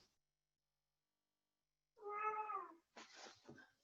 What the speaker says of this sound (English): my cat has wandered into my home office